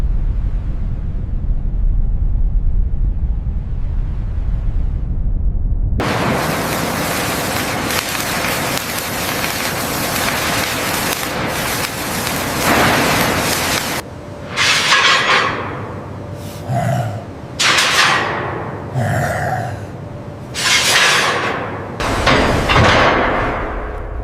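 Shipyard construction clangs against steel hulls: a low rumble opens, then a loud, dense wash of metallic noise. Later come repeated heavy impacts in an uneven rhythm, each ringing briefly, close and without talk.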